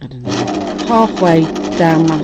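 A sewing machine stitches bias tape with a steady buzzing whir that rises and falls in short runs, while someone talks over it.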